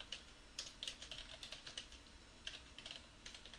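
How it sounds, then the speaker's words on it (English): Fingers type a short trade comment on a computer keyboard, quick light clicking keystrokes in uneven bursts, faint and close in a quiet room. "So I can type in comments here"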